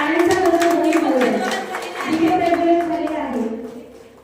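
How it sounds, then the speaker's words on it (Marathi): Scattered hand clapping at a Women's Day celebration, sharp claps ringing out beneath strong voices that swell and chant together, fairly close and loud before trailing off. "टाळ्यांचा गजर होऊन जाऊ द्या"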